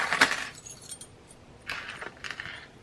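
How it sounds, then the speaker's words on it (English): Small decorative mini keys jangle close by in a craft setting, a bright metallic clink near the start, then a quieter pause and a second longer burst of light jingling toward the end; no talking. "I'm gonna need my little mini keys."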